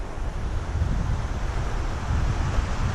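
Steady wind buffets the microphone in woodland, a continuous low rumbling roar with no pauses or voices.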